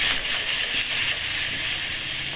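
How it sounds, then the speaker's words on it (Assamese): Onion, green chili, ginger and garlic paste fry together in a pan, a steady close sizzling hiss that runs continuously for a couple of seconds without talk. "আৰু এয়া চাওক পিঁয়াজ জলকীয়া আদা নহৰু পেষ্ট একেলগতে ভাজি লৈছোঁ।"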